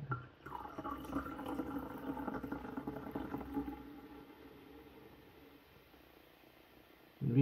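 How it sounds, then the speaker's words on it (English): Duvel barrel aged beer fizzing and crackling with carbonation, a soft continuous hiss and faint pops that gradually fade, heard close up with no talking. "You hear that fizzing."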